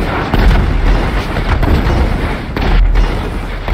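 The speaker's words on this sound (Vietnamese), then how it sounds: "Ôi xe này xe gì bắn hoài nó không cháy gì trời." GTA 5 gunfire aimed at a car, loud and dense, with booming shots blurring into a continuous roar of blasts that never pauses.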